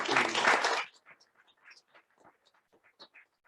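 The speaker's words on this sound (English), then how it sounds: "So round of applause to you as well." Brief applause from a computational chemistry school audience for the session chairs, a short dense burst that stops abruptly, followed by quiet scattered sounds.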